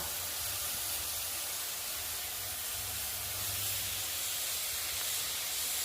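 A pressure cooker cooking rice gives off a soft, continuous hiss of escaping steam that stays faint and even for a few seconds, with no voices.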